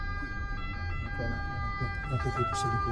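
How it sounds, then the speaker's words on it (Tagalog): Ambulance siren on a street in Milan: a steady, sustained wail runs the whole time beneath a person talking nearby, with traffic rumble below. "Iba yung tunog ng ambulansya nila."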